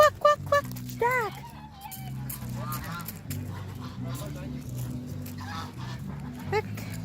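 Farm geese or ducks honk in short bursts near an adult voice, which talks over them and at one point imitates the quacking.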